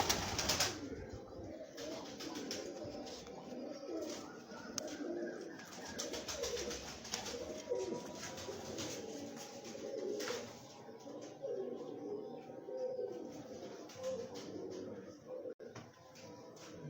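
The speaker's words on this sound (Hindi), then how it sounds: "ये सलारा कबूतर" Salara pigeons cooing, soft repeated coos among other bird calls, with occasional wing flaps and faint voices in the background.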